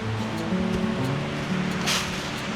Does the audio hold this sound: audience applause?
no